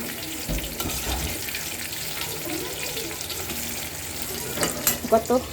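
Pointed gourd and teasel gourd pieces frying in a pan, a steady broadband sizzle running throughout, with a few louder clatters and scrapes near the end.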